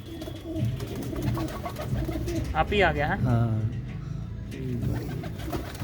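Pigeons, including a paired-up pair in a loft, coo in low, throaty rolls close by while people talk over them.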